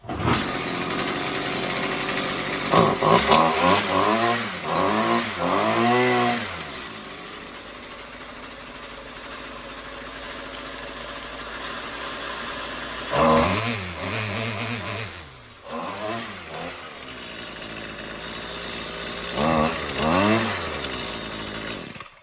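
Jonsered GT2128 string trimmer, just fitted with a new fuel line, sputtering as it starts, then revving hard in repeated bursts between steadier idling stretches, loud and close with no talking.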